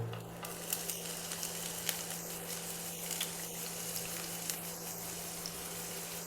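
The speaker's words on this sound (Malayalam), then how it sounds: "എണ്ണ ചൂടായി കഴിഞ്ഞാൽ ഏലക്ക ആൻഡ് പട്ട ഇഞ്ചി വെളുത്തുള്ളി കുനുകുനാന്ന് അരിഞ്ഞത്" Cardamom, cinnamon, ginger and finely chopped garlic sizzle in hot coconut oil in a pan, a steady close crackling hiss with a few sharp pops, heard alone with no talking.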